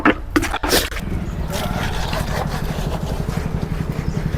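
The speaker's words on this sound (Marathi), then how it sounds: "आज संडेच्या फक्त गाड्याच येत राहिले" Vehicles passing one after another on a road on a Sunday morning, a steady mid-pitched engine drone filling the whole stretch after a brief louder burst at the start, with no talk.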